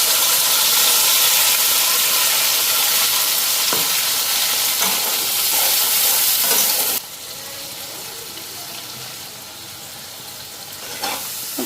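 Potatoes and spices sizzle and fry steadily in a pan, a continuous loud hiss with faint stirring scrapes, dropping a little in level partway through.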